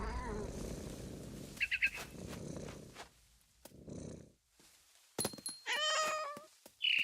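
A cat meows and purrs inside What Remains of Edith Finch, purring in long rumbling stretches, then a few sharp meows near the end, loud and close with brief gaps between.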